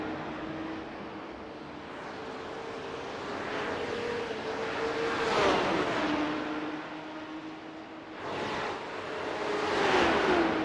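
Porsche Cup race cars at the Mount Panorama circuit roar past at a distance, engines droning and swelling with Doppler sweeps as cars pass, wind-like noise throughout, no talk.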